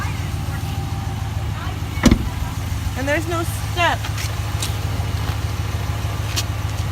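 A Ram 1500 pickup with a Hemi engine idles with a steady low rumble throughout, while people talk nearby over the constant drone.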